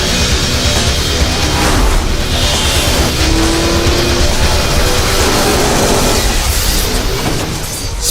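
Arcade racing cars roar through the PlayStation 3 video game Split/Second: Velocity in a dense, loud, unbroken wall of engine noise with tire squeal and skidding mixed in, no voices.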